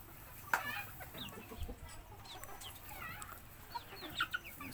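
Hens and large chickens cluck and chatter in a poultry farm pen, several birds overlapping in soft, irregular calls over a steady background hum.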